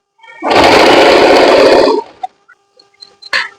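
A sewing machine stitches a fall onto a saree in one loud, steady whirring run of about a second and a half, followed by a few small clicks and handling noises.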